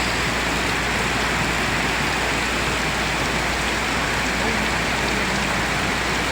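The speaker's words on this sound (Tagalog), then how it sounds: "Konting ulan lang." Rain pouring steadily onto surfaces during a flood, a dense continuous hiss that stays loud and even throughout, with a faint low rumble beneath it.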